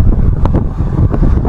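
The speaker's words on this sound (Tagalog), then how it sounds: "Ay, sarap ng hangin." Strong wind buffeting the microphone on a winding mountain road in Kalinga, a steady low roar rushing throughout with a couple of brief gusty bursts.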